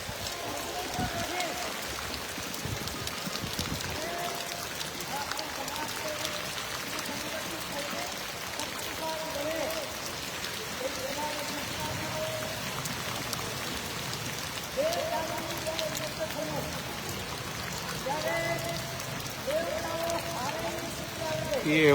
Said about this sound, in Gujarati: સારો એવો વરસાદ પડી રહ્યો છે.